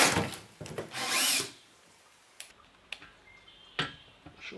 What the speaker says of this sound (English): I'm going to start off with a smaller drill than what I need, just to get the hole started.